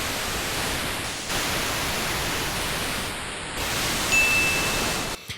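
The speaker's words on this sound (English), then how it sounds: "we're going to be using micro Korg noise" MicroKORG synthesizer noise patch, a continuous hissing wash of static-like noise whose level shifts in a few steps, with brief tonal glints, close and alone without talk.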